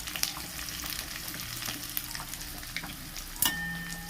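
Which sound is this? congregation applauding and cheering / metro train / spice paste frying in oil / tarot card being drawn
spice paste frying in oil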